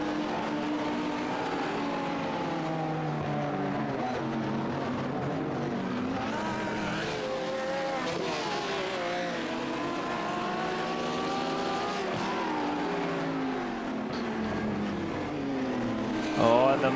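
Sim racing GT cars on the Belle Isle street circuit in a video game, engines droning and shifting pitch as they lap through corners, a steady loud mechanical whine running continuously throughout.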